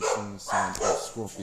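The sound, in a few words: dogs barking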